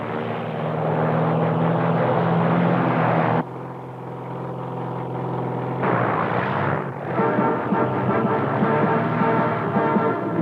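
Propeller airplanes drone loudly and continuously overhead while herding caribou across snowy open country, the engine roar shifting in pitch and intensity as the aircraft pass and turn.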